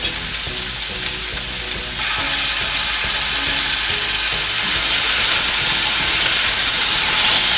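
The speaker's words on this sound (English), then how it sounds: "We just need to saute this mixture." Onion with green chilies and ginger garlic paste sautéing in a hot pan, a loud, dense, continuous sizzle and frying hiss that swells slightly toward the end, with no talking.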